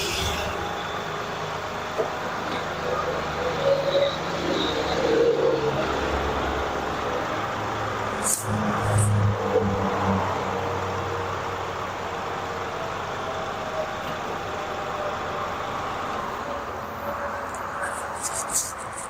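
A tractor engine runs steadily as the machine backs away from its detached front loader, giving a continuous mid-distance rumble with a few clanks and knocks early on before settling into an even drone.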